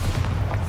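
The Bombarda explosive spell from the Hogwarts Legacy video game produces a loud, deep, sustained boom and rumble filling the brief moment.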